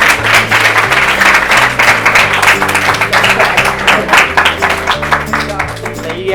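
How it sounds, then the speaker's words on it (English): Audience clapping for a presenter after a product demo, loud and dense throughout with rapid, even claps, while a low musical tone plays underneath. "Let's give Derek a big round of applause."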